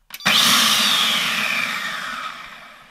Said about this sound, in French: on entend un ventilateur pour refroidir le moteur